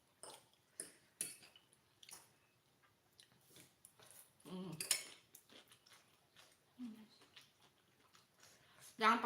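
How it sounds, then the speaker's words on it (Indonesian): Spoons and cutlery clinking against dishes at a home meal of fried noodles with pak choi and bean sprouts: scattered light metallic taps and clatters, close and sparse, with people speaking quietly in between. "Jangan pakai sendok itu, Nana."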